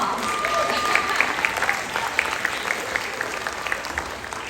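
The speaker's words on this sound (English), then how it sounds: "she deserves a round of applause." Audience applause at a spring showcase for a children's drum and drama program, a steady dense patter of many hands clapping throughout, fairly close and continuous with no talk.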